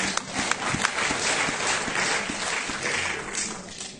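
An audience applauds at a stage anniversary show celebrating a singer's 35 years on stage, with dense, steady clapping from a large crowd that fills the whole stretch, sharp individual claps popping out near the front.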